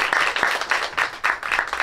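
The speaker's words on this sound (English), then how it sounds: "Let's give our grade 6 students a warm applause" Warm applause from a school audience welcoming grade 6 students and their teacher onto the stage at a 2022 graduation ceremony, steady crowd clapping throughout in rhythmic swells.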